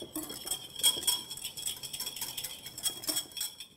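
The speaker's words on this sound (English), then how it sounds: "our cider, our Dijon mustard, and we're going to whisk it." A whisk clinks steadily against a bowl, mixing cider, lemon juice and Dijon mustard into a dressing, with quick, light metallic taps repeating close by.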